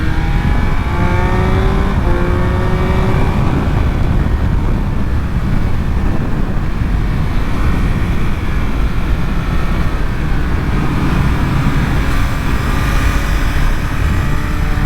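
A 2023 Triumph Speed Triple 1200 RS motorcycle engine pulls hard under acceleration, a loud, continuous roar with rising engine tones and heavy wind rush throughout.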